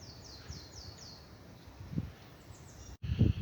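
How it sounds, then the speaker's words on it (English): Faint, high bird chirps repeat in a quick descending pattern far off, over a quiet outdoor hiss with a few soft rustles, on a countryside common path. "All I can hear is the birds chirping in the background"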